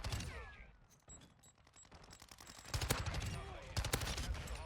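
Rapid gunfire bursts from a Modern Warfare 2 multiplayer match, loud and close, with sharp volleys near the end over a busy layer of game effects.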